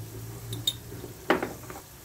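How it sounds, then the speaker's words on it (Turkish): A spoon stirs a minced meat filling seasoned with chili flakes, mint and sweet paprika for Antep-style cabbage rolls, giving a few soft scrapes and light clinks against a bowl over low background noise. "ekleyip harcımızı güzelce bir karıştırıyoruz"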